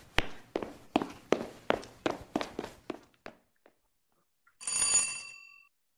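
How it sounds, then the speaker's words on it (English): A series of even footstep-like knocks fades out, followed after a pause by a brief bright bell ring. "Ring the doorbell. I'll hear it."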